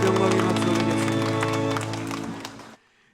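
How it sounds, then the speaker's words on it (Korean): A church congregation claps together during a Sunday worship service, a dense, steady burst of applause over lingering music that cuts off abruptly, with a voice speaking above it. "우리 주님께 영광의 박수 올리겠습니다."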